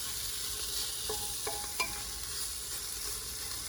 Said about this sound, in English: So we will saute our onions until they're